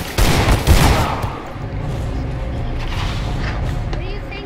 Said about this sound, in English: I just make it a point to be good with a Deagle.